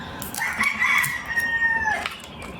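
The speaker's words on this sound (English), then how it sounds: "You hear my chickens outside." A rooster crows once outdoors, a drawn-out cock-a-doodle-doo over faint background noise, with other fowl clucking softly nearby.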